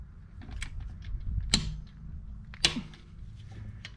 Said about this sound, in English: you just want to torque down your wheel nuts while the car's on the ground